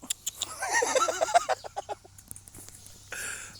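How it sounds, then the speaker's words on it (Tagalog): Horse on a large nine-hectare farm, heard as a series of snorting, whinnying bursts close by, followed by a few scattered thuds and a rustling noise at the end; no clear hoofbeats. "Pupunta sa atin yung kabayo."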